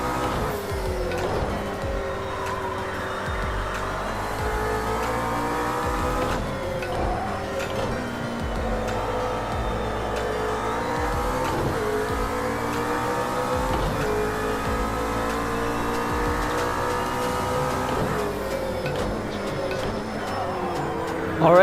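A McLaren P1 GTR race car drives on a track, its engine loud and continuous, revving up and down through repeated gear shifts with a steady high whine.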